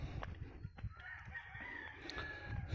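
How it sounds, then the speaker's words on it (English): A rooster crows on Saint Thomas in the U.S. Virgin Islands, its long call rising over a steady outdoor background. The bird sounds moderately distant and rather faint, and no one speaks. "So somebody's got a rooster here, of course."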